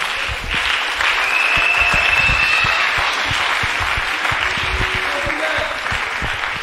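A crowd at a women's church convention claps loudly and continuously in a dense, sustained round of applause. Voices rise faintly through it.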